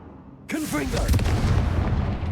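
A Confringo blasting spell goes off in Hogwarts Legacy as an abrupt, loud explosive boom that rolls into a sustained roaring rumble, with a voice briefly heard as the blast begins.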